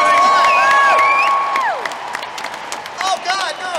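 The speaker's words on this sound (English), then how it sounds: "Keep that applause going." At a live comedy show in Perth, an audience cheers loudly with shrill whoops and whistles over clapping, and the noise gradually thins out toward the end.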